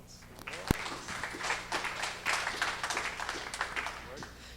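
Audience applause at a tech meetup, a short burst of scattered clapping in a room, fairly faint, overlapped by a speaking voice.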